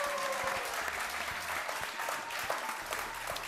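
A TV show studio audience gives dense, continuous applause that stays loud and steady throughout, with a faint voice underneath.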